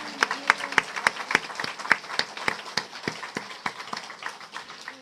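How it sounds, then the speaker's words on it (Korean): A church congregation claps in praise during a sermon. The sharp claps start unevenly, settle into a fairly regular rhythm and thin out toward the end, moderately loud in a reverberant hall. "우리 기대하는 마음으로 하나님 앞에 감사와 영광의 박수 올려드리겠습니다."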